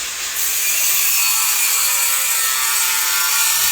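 Loud, continuous grinding and scraping from house tile installation work, like a power tool cutting hard material, steady and close for several seconds.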